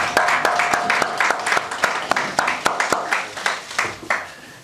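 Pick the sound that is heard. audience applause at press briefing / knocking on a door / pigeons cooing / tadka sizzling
audience applause at press briefing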